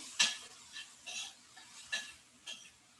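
Onions sautéing in a pan with a little salt, stirred in four or five separate scraping strokes over a soft, constant sizzle, close and fairly quiet, with no voices.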